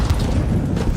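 A grenade goes off in a video game, a dense, sustained low boom rumbling loudly throughout the short moment with no pause.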